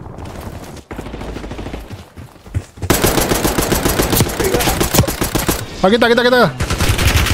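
Automatic weapon fire crackles in rapid bursts during a Call of Duty: Warzone match, loud and dense, with a player talking intermittently over the shooting.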